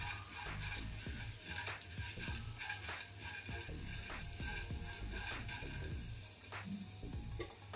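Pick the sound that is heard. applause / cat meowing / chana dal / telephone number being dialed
chana dal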